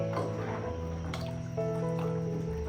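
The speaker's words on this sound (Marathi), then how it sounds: "थंडच पाणी टाकते" Cold water is poured into a thick curry paste for a Goan mackerel curry, a close, wet gurgling and dripping stream that goes on without a break over a humming kitchen background.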